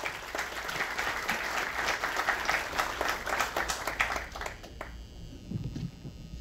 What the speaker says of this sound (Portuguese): Gente, palmas para ele, por favor